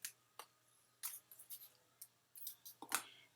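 Scissors trimming card stock for a handmade greeting card, a series of short, crisp snips spaced irregularly, close and fairly quiet, with no talking.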